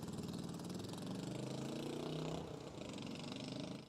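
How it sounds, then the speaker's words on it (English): A loud motorcycle engine drones nearby, its rumble swelling and holding steady before easing slightly, continuous for a few seconds without speech. "We had that really loud motorcycle"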